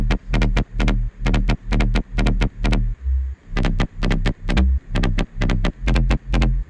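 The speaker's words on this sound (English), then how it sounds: "when we add the sidechain back into that, these 2 Serum presets sound like this." Two Serum synth bass presets in a UK garage track, with sidechain compression that makes the bass pump in a steady bouncing rhythm of loud, evenly spaced swells that duck between beats, played alone with no voices.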